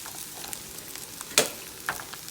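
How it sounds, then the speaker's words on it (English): Chicken fried rice searing in a pan, a soft even sizzle with two crisp louder pops or clinks standing out near the middle. "give that rice just a little sear on the bottom"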